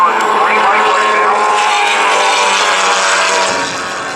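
Formula Atlantic race cars at Laguna Seca, a loud sustained high-pitched engine wail heard close from inside a car, holding steady then easing slightly near the end.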